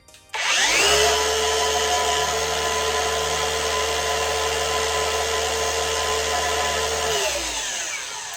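A Lake Country System 4000 pad washer spinning a polishing pad dry at maximum speed: a loud, steady motor whine and whir that holds constant for several seconds, then winds down.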